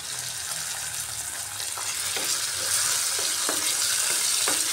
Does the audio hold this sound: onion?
yes